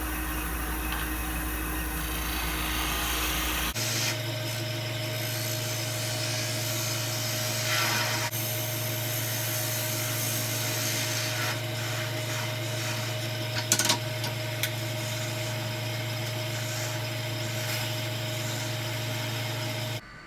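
A woodturning lathe spins at about 1800 RPM while a bevel-rubbing tool cuts a butternut pepper grinder blank, giving a steady motor hum with a continuous scraping cut and a brief knock near the middle.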